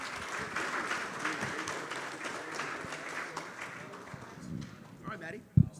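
Audience applause at a live Bitcoin Day conference in Naples, a fairly faint, sustained patter of clapping from a crowd, with voices talking over it and a sharp knock near the end.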